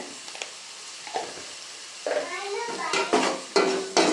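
A utensil stirs tomatoes frying in a pan with salt for an okra gravy, giving scraping clinks and a soft sizzle that grow busier toward the end, close and moderate in level.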